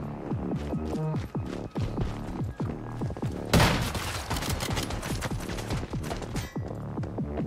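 Rapid automatic gunfire from the video game Once Human, dense bursts of close, loud shots with a heavier blast in the middle, continuing almost without pause.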